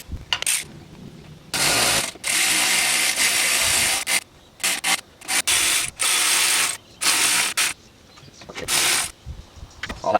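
A ratchet wrench clicks rapidly in repeated bursts while tightening engine belts on an old barn-find Volvo, close and loud, with short pauses between each round of cranking.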